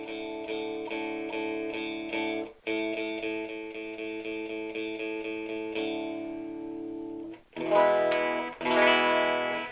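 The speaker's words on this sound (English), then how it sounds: "Right now I'm using an Albert Lee model, Music Man, with single coil pickups." A Music Man Albert Lee electric guitar on its bridge single-coil pickup, played through a clean tone into a PRS SE50 amp, strummed in repeated sustained chords, a pause, then brighter ringing chords near the end.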